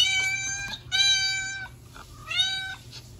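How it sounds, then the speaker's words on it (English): A cat meows three times in separate, drawn-out calls with short pauses between them, close and clear against a faint background hum. "That's right. That's a cat."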